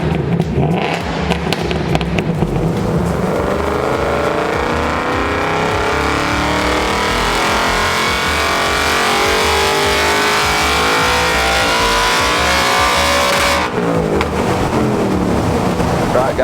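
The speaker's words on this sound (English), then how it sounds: "it's time to hand it over to Dee in the dyno cell so we can do a custom tune and we'll see what power it makes" Ford Mustang Mach 1 fitted with Kooks long-tube headers running on a dyno in a dyno cell, a loud, sustained engine roar and drone holding steady for several seconds before cutting off sharply near the end.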